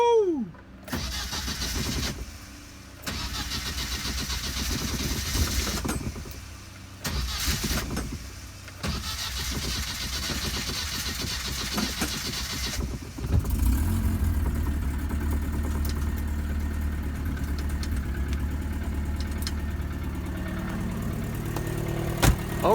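1998 Isuzu Amigo engine starts for the first time after a rebuild: starter cranking in short bursts, then the engine catches and settles into a steady, close idle.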